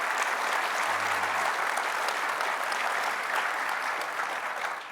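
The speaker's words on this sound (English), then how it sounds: "Let's give a round of applause for Clay." Steady, dense audience applause fills a conference hall after a live coding demo at a Power Platform session, holding at an even level for the whole stretch with no voices on top.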